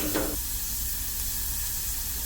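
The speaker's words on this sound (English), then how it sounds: "Turn down my heat a little bit so the onions saute a little bit more." Onions sautéing in a pan over lowered heat, a soft steady sizzle with a brief louder burst at the start, faint and continuous with no talk.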